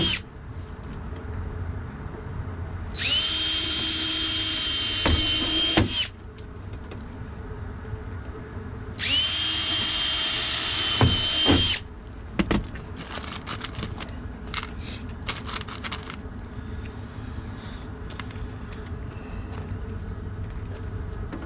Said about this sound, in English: I'm just pre-drilling them first.